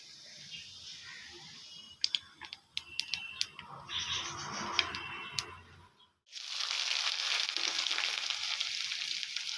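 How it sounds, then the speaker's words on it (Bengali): Black cumin seeds hit hot oil in a kadai with a sharp crackling sizzle and scattered popping ticks, then a steady loud frying hiss takes over. "এখন এই কালো জিরেটা এখন কড়াইয়ের মধ্যে ফোড়ন দিয়ে দেবো।"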